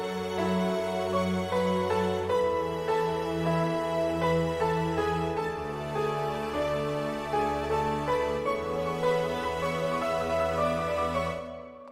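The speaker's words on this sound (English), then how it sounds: "in this part of the piano and the orchestra, it will sound like this" Piano chords and sustained orchestral strings play together in a steady, full-bodied passage from an original song, warm and continuous with no voices, fading out at the end.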